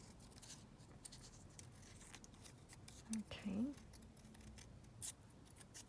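Scissors snipping paper while trimming pieces for a cardboard art journal fairy page, a few short close cuts in quick succession against quiet room noise.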